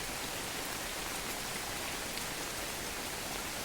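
Rain falls beside an outdoor fish pond, a dense, even hiss of drops on surfaces that holds steady throughout with no voices.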